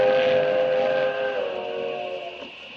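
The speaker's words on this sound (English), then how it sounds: "He's waiting for the train." A steam train whistle used as a radio drama sound effect gives a loud, sustained multi-tone blast that holds, then dips and slowly fades. It plays alone with no voices.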